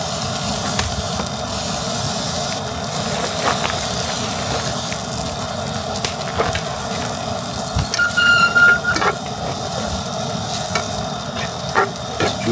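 Camping stove burner under a kettle of tea on a fire pit, giving a steady roaring hiss with faint crackles and small clinks throughout, close and continuous.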